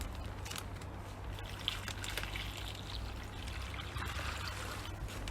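Water pours steadily from a jug into a pan for rotisserie chicken on a Weber kettle, a continuous splashing trickle close by with no talk.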